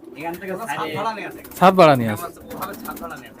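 High-flying pigeons coo repeatedly at close range inside a small, cramped loft, with soft rolling calls overlapping one another.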